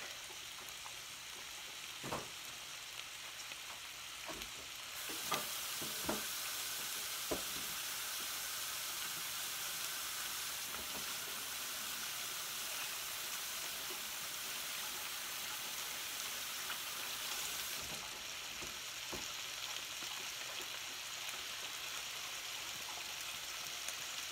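Chicken sizzles steadily in a pan of creamy tomato and spinach sauce, a close, even hiss and crackle with a few light clicks of utensils against the pan.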